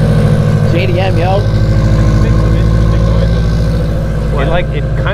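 A Subaru WRX engine idles loudly and steadily close by, with a low rumbling throb, while people talk over it.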